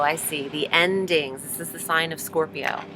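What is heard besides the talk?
No everyday noises stand out.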